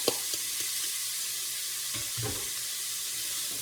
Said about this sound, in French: Pendant que ça cuit un tout petit peu, le céleri, carottes, échalotes, oignons